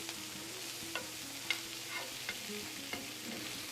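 Charred green chiles sizzle in a pan over low heat, stirred with soft scrapes and a few light taps under a continuous frying hiss, no talk.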